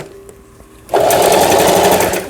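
After a brief quiet stretch with faint clicks, a Lion Angel sewing machine suddenly starts running fast, a loud steady buzzing rattle of zigzag stitching that continues to the end.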